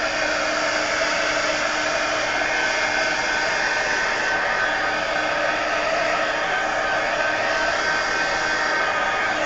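A hair dryer blows steadily at close range, drying paint on a mixed-media altered book collage, a constant broadband whoosh lasting the whole stretch with no talk over it.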